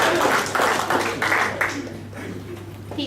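Classroom audience clapping for themselves during a lesson: a short burst of scattered, moderately loud applause from a group, with a few fainter voices mixed in.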